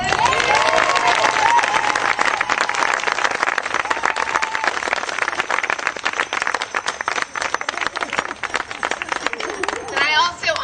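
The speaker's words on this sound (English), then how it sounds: "let's all give her a round of applause" An audience at a celebrant graduation ceremony claps in a sustained round of applause that stays dense and loud for several seconds, then thins out near the end, with voices mixed in.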